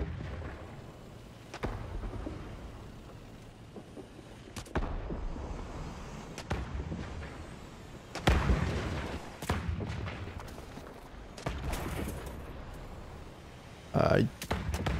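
A T-80U main battle tank in War Thunder takes gunfire, heard as several heavy booming impacts and blasts at irregular intervals, with one sharp loud hit near the end and someone talking throughout.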